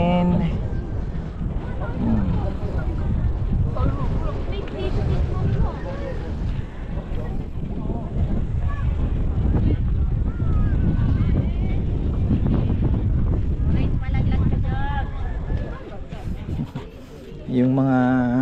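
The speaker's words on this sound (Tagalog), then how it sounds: "Lakas ng hangin." Strong wind buffets the microphone steadily for the whole stretch at the Chocolate Hills in Bohol, a loud, continuous rushing roar with a voice faintly underneath.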